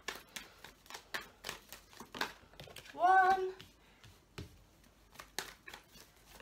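Tarot cards being shuffled by hand, producing a rapid series of crisp, close snapping and riffling flicks, with a single brief spoken word partway through.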